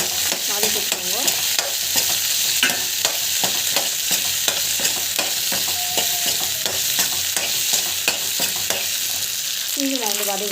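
Dried red chillies and salt sautéing in a hot pan, a dense continuous sizzle with quick repeated scraping stirs of a spatula, close and fairly loud, with a brief squeak near the end.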